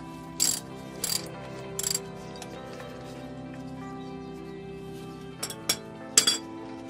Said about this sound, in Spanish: Ahora a quitar el filtro de aceite